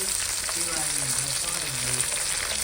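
Onions and spices sizzling hard in a pan for Tamil mackerel fish curry before tomatoes go in, a continuous close frying hiss with occasional stirring, loud and even throughout.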